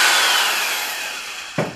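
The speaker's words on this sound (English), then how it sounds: "you're going to want to drill a drainage hole right in the bottom" A drill bit grinds a drainage hole into the bottom of a hypertufa trough, a loud rough whirring that slowly fades, then a brief sharp scrape at the end.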